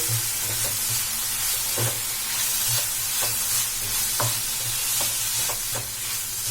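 Leftover dosa batter and egg mixture being stirred in a hot pan, a steady sizzle with soft, irregular scraping strokes of a spoon throughout, close and continuous with no talking.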